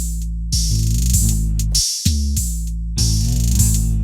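Deep booming 808 bass notes with a buzzy edge, several sliding down in pitch, in a steady beat with short gaps between hits.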